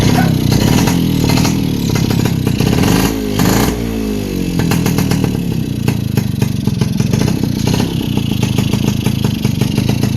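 A Kawasaki HDIII 125 motorcycle engine runs after a clutch lining replacement, idling loudly up close with a steady putter and mechanical clatter, and it briefly revs partway through.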